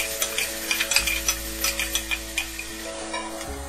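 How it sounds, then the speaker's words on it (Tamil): Sliced beans and vegetables sizzle and get stirred in a hot pan, a spatula scraping in a rapid rhythmic series of strokes over a constant frying hiss, close and fairly loud. "இதையும் ஆட் பண்ணி வதக்கிக்கோங்க."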